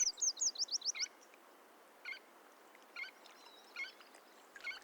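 Quick series of high, warbling bird chirps at the start, then a few scattered shorter calls over a quiet, steady background, in wolf country at evening.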